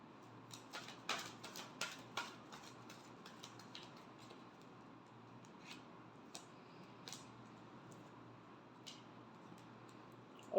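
Tarot deck being shuffled by hand, soft rapid card riffles and clicks, denser at first and then more scattered, faint and close, no talking.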